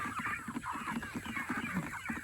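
Rainbow Ranger chickens cluck in a busy, overlapping chorus while crowding around feed, close and steady throughout.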